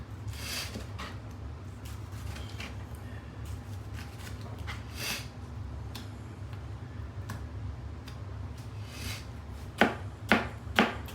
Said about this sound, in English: Chopping tomatoes.